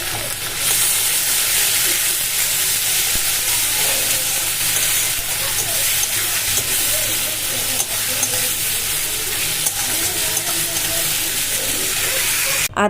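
Garlic and ginger frying in a hot pan, producing a loud, continuous sizzle and hiss close by with stirring scrapes running underneath throughout.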